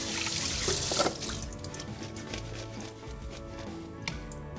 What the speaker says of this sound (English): Pretty good, but I'm gonna rinse it once more.